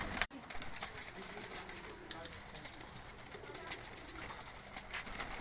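Kept pigeons coo faintly in soft, low, rolling calls over a quiet background, with a sharp click near the start.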